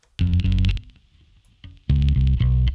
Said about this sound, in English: in FutzVerb I also get the sub-octave generator as well